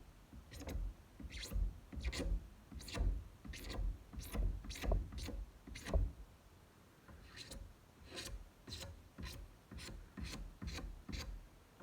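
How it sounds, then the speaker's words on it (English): Hand scraping of a Farmertec kit chainsaw part, a long series of short rasping strokes in a steady rhythm, close and fairly quiet, with a brief pause midway and no talk. "And just scrape it off like that."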